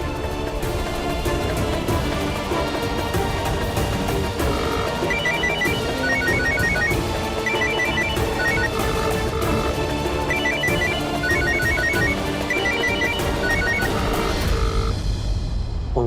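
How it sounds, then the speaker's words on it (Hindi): A phone ringtone plays steadily while an outgoing call rings through, a loud repeating melodic ring pattern cycling continuously over a low backing, with no talking. "माँ को एक बार फोन करके पूछ ही लेता हूँ कि वो कहना क्या चाहती थी।"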